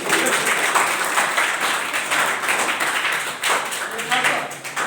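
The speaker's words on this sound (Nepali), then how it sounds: "क्ल्यापिङ गर्नुहोस्, पहिला क्ल्यापिङले गर्नुहोस्" A room of roughly fifty to a hundred students claps for several seconds at an IT career seminar in Nepal, loud and close, with dense overlapping claps that dip briefly near the end and then pick up again.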